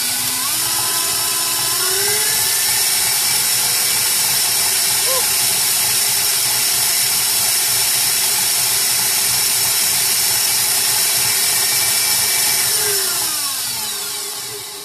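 Electric stand mixer with a whisk attachment whipping chocolate whipped cream frosting, a steady, loud motorized whir running continuously with a faint mechanical rattle throughout.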